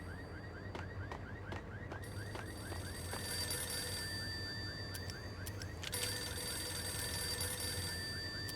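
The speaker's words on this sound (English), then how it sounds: "A payphone started to ring." Electronic double-trill ringing of a payphone in the video game Max Payne, repeating steadily at moderate volume over a low ambient hum, with a few sharper clicks partway through and no talking.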